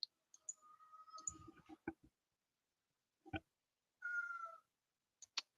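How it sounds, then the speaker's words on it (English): A pet cat meows a couple of times indoors, quiet and fairly close, with scattered clicks and taps between the short calls. "My cat's over here going crazy."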